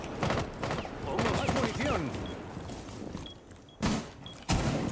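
A G36 rifle fires in the tactical shooter Rainbow Six Siege, with short, punchy bursts rattling out, loudest near the end, while someone talks over much of the gunfire.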